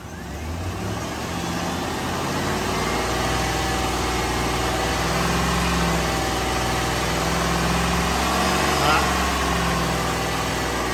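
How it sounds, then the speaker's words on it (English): A car engine is held at about 2500 RPM during a battery, starter and alternator test, producing a steady, close mechanical hum that stays even throughout with no talk. "it says increase speed to 2500 RPMs and keep it for 5 seconds"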